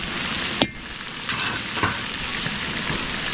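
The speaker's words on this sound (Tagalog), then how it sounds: "So papulayin muna natin bawang sa sibuyas dito sa kabila" Garlic and onions sautéing in a pan give a steady, close sizzle with a few scraping clinks from stirring, one sharper knock near the start.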